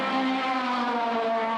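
A loud, close, steady engine drone holds for a moment as racing cars come up the straight during a 1980 GT race at Phoenix Park, with no voices.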